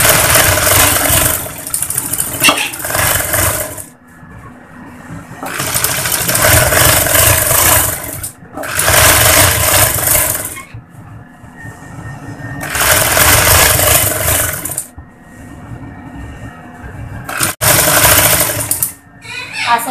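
Sewing machine stitching the seam of a women's pajama pant, loud close whirring runs of a few seconds each, separated by short pauses, with no talk.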